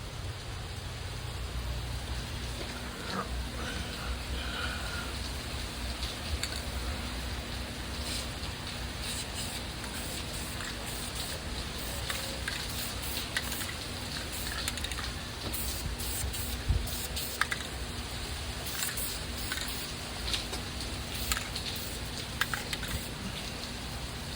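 A continuous hissing spray runs throughout as parts for a Mazda RX-7 FD3S Spirit R wing are spray painted, steady and fairly close, with occasional faint clicks and a low background hum.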